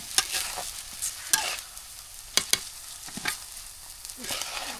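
Chickpea biryani stirred in a pot over a village clay stove, with repeated scraping strokes at an uneven rhythm over a soft, steady sizzle, close and fairly loud.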